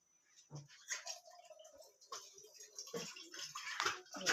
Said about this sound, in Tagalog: First, lagyan natin to ng tubig.